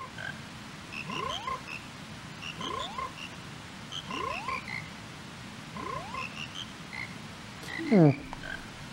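A chorus of frogs croaks and sings in The Legend of Zelda: Majora's Mask, with several calls rising in repeated melodic phrases over a steady background bed and one louder croak near the end.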